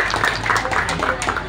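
An audience claps steadily through a short stretch of applause at a community event, a dense, even patter of many hands with a faint voice mixed in.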